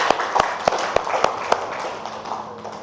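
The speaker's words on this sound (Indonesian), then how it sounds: "coba berikan tepuk tangan sama Suci" Students in a classroom clap for a classmate named Suci: about eight sharp, evenly spaced claps that fade out after a second and a half, over faint room noise.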